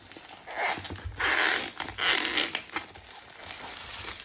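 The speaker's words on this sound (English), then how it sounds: "The only issue is the plastic on the exterior, but this one seems relatively easy to remove." Plastic shrink wrap crinkles and tears off a card deck box in several short, close rustling bursts with brief pauses between them.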